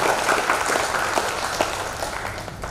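An audience at a Maithili literature gathering breaks into applause to welcome a speaker, a dense patter of many hands clapping that holds steady and then slowly tapers off.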